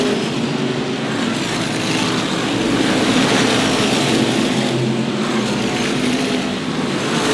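SK Modified race cars at Waterford Speedbowl pack together around the banked oval in a loud, continuous roar of engines, rising and falling slightly as the field passes, with no voices.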